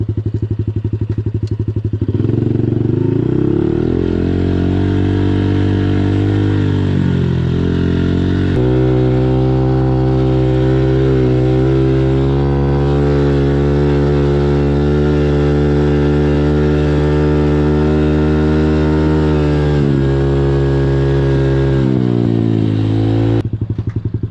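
A new dirt bike engine running close by, loud and continuous, first revving up and down, then settling into a steady, rough drone, with a brief dip near the end.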